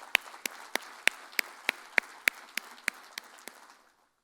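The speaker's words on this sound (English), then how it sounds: "I would like each one of us here in the room to have a big round of applause" Sparse handclaps ring out from an audience at an AMFI 30th Foundation Day event, about a dozen distinct claps in a steady loose rhythm, fairly near and moderate in volume, fading out toward the end.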